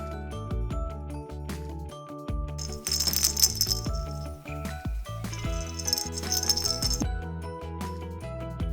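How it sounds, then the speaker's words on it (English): Small balls attached to baby play socks rattling in soft bursts, shaken several times over gentle background music. "there are play socks with attached balls that make some noise"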